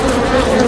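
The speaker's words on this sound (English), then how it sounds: "But these are native Japanese honeybees" Native Japanese honeybees at a hive inside a hollow tree, a dense, close, continuous buzz of many bees.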